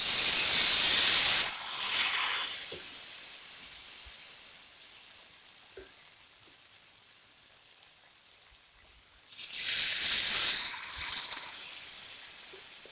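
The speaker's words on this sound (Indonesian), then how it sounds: "Kita akan goreng raki bada" Raki bada, small fish in batter, frying in hot oil over a low flame: loud sizzling hiss bursts at the start, fading to quiet crackle, then swelling again briefly as more is added.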